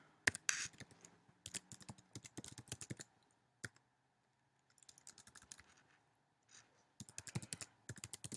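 Keys tapped on a computer keyboard while a password is entered, in bursts of quick clicks separated by short pauses and a few stretches of near silence, close and fairly quiet, with no talking.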